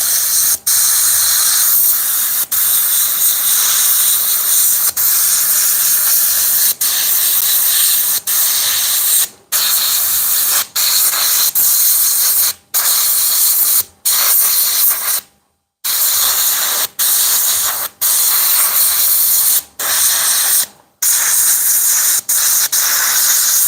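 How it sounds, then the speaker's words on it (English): An airbrush sprays paint onto a hoodie in a loud, continuous hiss, broken by several short gaps where the trigger is released and the spray then resumes. "Basically, I'm just spraying the paint on this and then just blowing it off of there."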